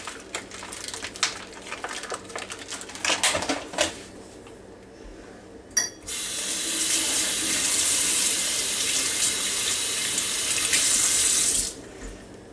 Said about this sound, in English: all you have to do is rinse it off because of the salt that they use to package